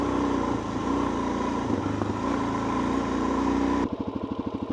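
Motorcycle descending a hill with the clutch pulled in, its engine idling with a steady buzzing drone throughout, shifting to a lower, pulsing putter near the end; close and fairly loud, with no talk.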